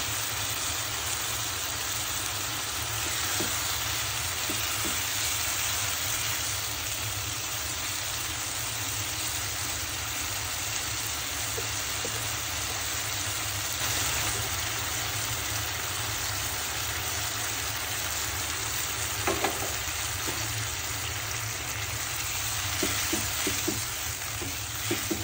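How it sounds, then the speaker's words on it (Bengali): Kachki fish and finely chopped potatoes frying in a pan make a long, steady hiss, with occasional soft stirring scrapes and taps toward the end. "অল্পভাবে নেড়ে দিতে হবে।"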